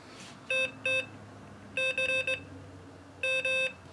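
Morse code CW beeps from a Morserino-32 trainer in decoder mode, crisp electronic tones in short clusters of dots and dashes separated by gaps, clear over a faint background hiss, with no talking.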